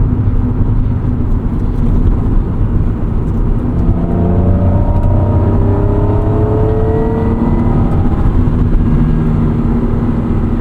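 A 1996 Acura NSX-T with a 5-speed manual cruises in fifth gear, a steady loud engine drone with rising harmonic tones over constant road and wind roar, heard from inside the cabin.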